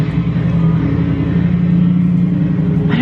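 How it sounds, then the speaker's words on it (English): Loud trucks passing by outdoors, a steady heavy engine rumble and roar that holds strong throughout, close and dominant. "we got some loud trucks here"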